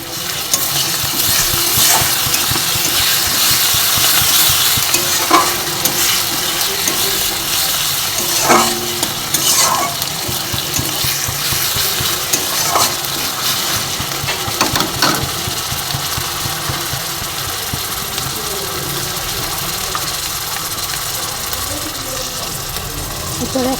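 Garlic paste hits browned onions in a hot pan for a rohu fish curry, a loud continuous frying hiss with occasional spatula knocks and scrapes, with someone speaking over it.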